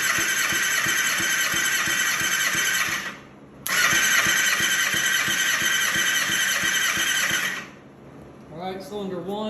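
A 2007 Kawasaki ZX6R engine cranks on the starter during a cylinder compression check, a loud, steady whirring churn with rapid pulses that cuts out briefly, resumes, then stops before a short squeal.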